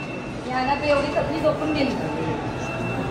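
Rumbling of a moving train with faint squeals and rattles, heard from inside, with voices murmuring over it.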